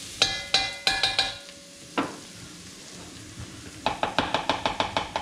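Ingredients for palak paneer fry in a pan, sizzling steadily while a utensil scrapes and stirs in quick repeated strokes, pausing briefly before a fast run of scrapes resumes.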